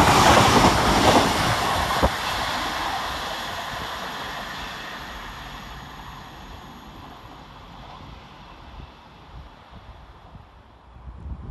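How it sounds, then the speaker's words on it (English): A Transpennine Express class 802 train passes through Patricroft station, a loud rushing roar close by at first that fades steadily into the distance, with wind buffeting the microphone. "Next around the corner for Transpennine Express is 802203, working 1 Papa 23 from Liverpool Lime Street to Newcastle via Manchester"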